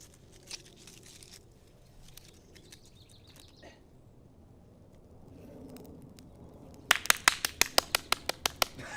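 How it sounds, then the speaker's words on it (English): A short burst of quick hand claps, about eight sharp close slaps in a rapid run near the end, after a stretch of quiet room tone. "Why did I clap like that?"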